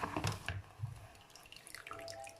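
Water from chenna made by curdling milk with vinegar drains away through a strainer, giving faint drips and small trickles that are quiet and close, fading to scattered drops.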